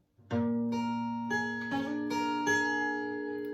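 A short electric guitar phrase of a few plucked notes, each ringing out and sustaining, played alone and fairly clear.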